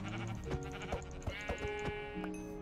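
Minecraft sheep bleating in the video game, several wavering baa calls in quick succession over soft background sound, close and clear.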